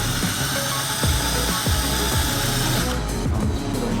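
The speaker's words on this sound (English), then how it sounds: "So don't go too fast on the drill" A power drill spins a sanding pad across a wet plastic car headlight, giving a steady whirring grind with scraping texture and a few short bumps as the pad shifts, loud and close throughout without talk.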